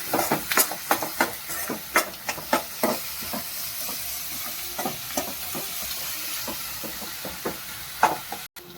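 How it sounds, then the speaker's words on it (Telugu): Onions frying in a pan for an Orissa-style guguni, a steady sizzle broken by repeated sharp scraping strokes of a spoon stirring, close and fairly loud with no talking. "ఉల్లిపాయలు చక్కగా ఎర్రగా దూరగా వేయించేసుకోండి"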